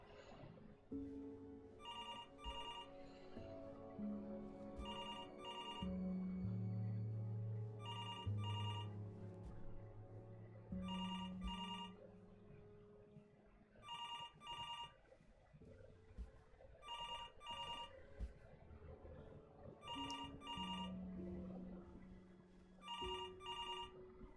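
Telephone ringing in the video game Before Your Eyes, repeated double-burst electronic rings at a steady rhythm over soft background music, no talk.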